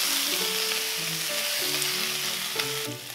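Mushrooms and garlic frying in a hot wok give a loud, continuous close sizzle with crackling bursts and a brief stirring scrape near the end.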